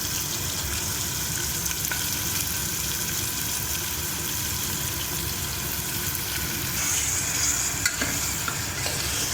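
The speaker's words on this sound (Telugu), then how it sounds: "ఆనియన్స్ గోల్డ్ కలర్ వచ్చే వరకు ఫ్రై చేసుకోవాలి." Onions fry steadily in hot oil for Chole Bhature, a continuous close sizzle with occasional stirring scrapes and spatula clinks, no voices.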